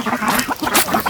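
Ducks quacking on a rice-field farm, several birds calling in quick, overlapping bursts at close range, loud and busy throughout with no talk.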